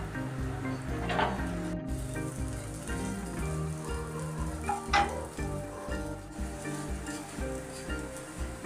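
A poha roti sizzles steadily in a spoonful of oil on a pan over a medium flame, a soft continuous crackle with a couple of faint scraping touches, no talk.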